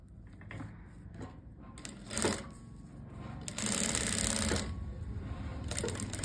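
Sewing machine stitching a buckram neckline for a garment, running in short irregular bursts with a busier, louder stretch midway, close and fairly faint, with no talking.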